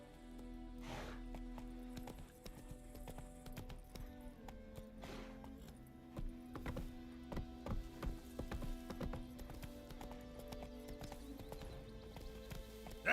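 The horse Roach gallops in Witcher 3, its hooves clip-clopping in a quick, steady rhythm at a modest level over soft background patter, with no talking.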